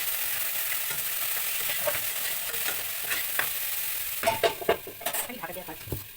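Tomato, ground coriander and turmeric fry in a pan with a steady sizzle, and a spoon stirs with scraping and clattering strokes that get louder toward the end, close by, with no voices.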